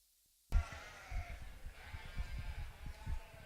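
Sheep at a livestock show sale in a cattle pavilion, bleating in a busy, reverberant hall: a sudden loud onset followed by repeated low bleats and thumps over constant crowd murmur.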